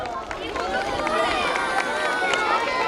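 A crowd of school students at a school-year opening ceremony cheers and shouts in response, a dense, sustained roar of young voices filling the whole stretch.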